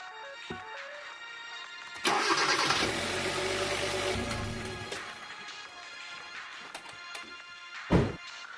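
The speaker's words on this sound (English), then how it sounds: "Then we'll run the engine and we'll recheck on the dipstick." A Hyundai Veloster engine cranks and fires up with a loud burst, then settles into a steady idle; a couple of clunks and a short rev follow.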